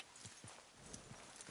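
Horse hooves clip-clop in a quick, even rhythm in Red Dead Redemption 2, soft and fairly close, with no other sounds.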